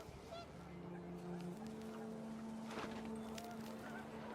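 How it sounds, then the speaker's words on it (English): Panicked geese honk in the video game What Remains of Edith Finch, a few scattered honks over steady wind and a low droning tone, faint and somewhat distant. "The wind picked up and panicked geese appeared and quickly went"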